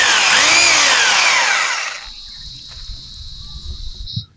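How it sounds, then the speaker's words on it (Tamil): A drilling machine bores a round hole through a metal rod for a homemade ATV built from an old TVS 50: about two seconds of loud, harsh grinding, then a thin, steady high whine that fades, with a few low knocks beneath. "ட்ரில்லிங் மிஷினை வச்சுன்னா ரவுண்டாக வந்து ஓட்ட போட்டு எடுத்துக்கிடுவோம்"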